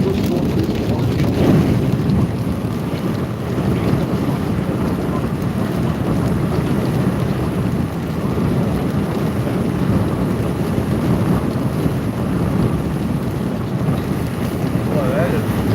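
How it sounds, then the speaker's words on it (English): Cold rain pours steadily outside during a thunderstorm with large hail nearby in central Illinois, a dense constant hiss mixed with wind buffeting, with voices talking faintly underneath. "Boy, that is cold rain outside."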